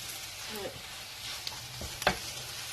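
Spinach with eggs and cheese cooking in a pan, stirred with a spatula: soft sizzle under a few scraping strokes and a brief clatter near the end, fairly quiet with no talking.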